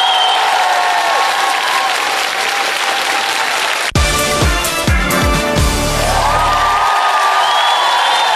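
An ice-show audience applauds loudly and continuously. Whoops and cheers surge midway, and the clapping stays dense throughout.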